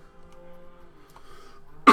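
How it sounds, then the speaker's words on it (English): A single sharp cough, loud and close, bursting in at the very end after near silence with faint game tones. "I still have a little bit of a cough."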